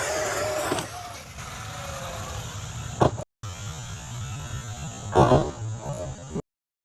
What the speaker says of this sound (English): Oops, bad landing. It was a hard hit.